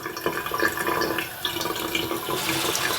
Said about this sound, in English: clean it off with some water at the same time